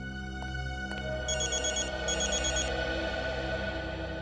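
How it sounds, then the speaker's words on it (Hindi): A telephone rings with an electronic, repeating ringtone in two trilling bursts over a steady droning tone, playing out in a tense crime-drama scene in a theatre. "अभिजीत का फोन है।"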